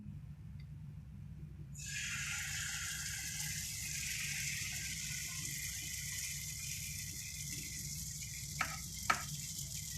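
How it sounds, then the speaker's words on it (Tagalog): Pancake batter poured into a hot frying pan starts a sudden steady hiss of sizzling that continues evenly, over a low background hum, with a couple of faint clicks near the end. "Tumatinding ang kawali. Ito, ibubuhos na."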